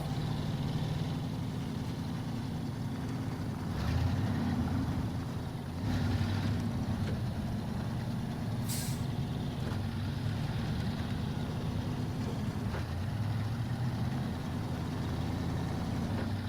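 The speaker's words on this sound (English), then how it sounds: "I should have shut that engine off" A heavy All American truck engine idles steadily in SnowRunner, a low continuous drone and rumble with faint wind-like noise on top and no voices.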